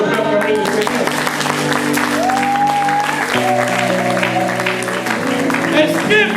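A church congregation claps and cheers in sustained applause acclaiming the Lord, with a steady crowd roar over music and a voice speaking across it.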